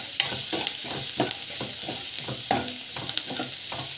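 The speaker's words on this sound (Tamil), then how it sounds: "நம்ம வந்து பெருங்காயம் வந்து ஆட் பண்ணுறதோ நல்லா வந்து வதங்கட்டும்" Spices with asafoetida sauté in a hot pan, a continuous sizzle punctuated by rhythmic scraping and stirring strokes of a spoon, close and fairly loud.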